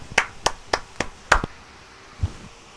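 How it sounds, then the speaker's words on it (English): Hands clapping in a classroom, five sharp, evenly spaced claps in quick rhythm followed by a softer thump, close and distinct with no talking. "Let us clap our hands for Maria."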